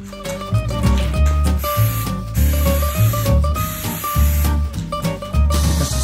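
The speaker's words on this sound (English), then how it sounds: "I spray the front." Flex Seal sprays steadily from an aerosol can onto the front of an MDF TV lap tray, a loud continuous hiss with brief pauses between passes, heard over a musical background.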